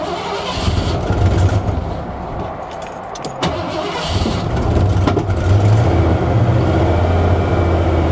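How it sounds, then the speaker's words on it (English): An old Ford truck's starter cranks, and the engine catches and runs at a rough idle, loud and close, with no voices. "That old Ford starter."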